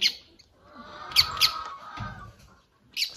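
Small birds give a few short squawks and chirps in a vegetable garden, separate scattered calls with quiet gaps between them and no speech.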